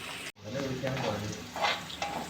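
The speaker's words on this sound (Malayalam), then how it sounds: "ഇഞ്ചി കുറച്ച് മൂപ്പിച്ചെടുക്കണം ആ മൂപ്പിക്കാനായിട്ട് അതിലേക്ക് ഇടുകയാണ് ചെറുതായിട്ട് അരിഞ്ഞതാണ്" Finely chopped ginger fries in a pan for a country-style chicken liver fry, sizzling steadily and close after a brief silent gap, with stirring scrapes and a faint voice in the background.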